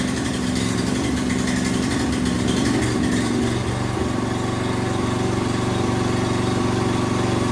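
Honda snowblower engine running steadily close by, a loud continuous motor drone with a brief throttle rise and dip partway through, no talking over it.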